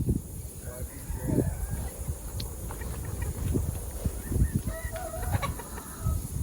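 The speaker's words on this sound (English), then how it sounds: "Scare all the chickens." Several chickens cluck and squawk nearby in bursts, busy farmyard clucking with low voices and rustling beneath.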